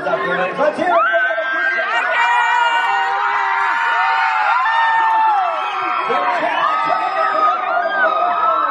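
A crowd at a live fan convention stage greets performers being introduced, with a steady wash of cheering, whoops and excited chatter that carries on throughout.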